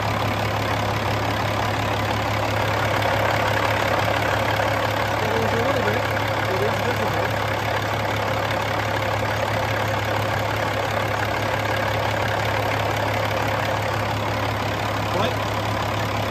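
A steady, rumbling diesel engine of a 2007 Peterbilt 386 truck idles continuously, a low constant hum with a faint mechanical knock running throughout.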